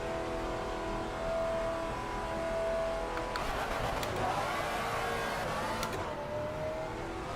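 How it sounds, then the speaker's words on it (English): Porsche GT4 race car in a racing video game at Laguna Seca, engine revving and droning through the pits, steady and moderately loud with a few brief sharp transients partway through. "Porsche gearing is interesting in the pits. But that was a lot of RPMs he all of a sudden had down the pits."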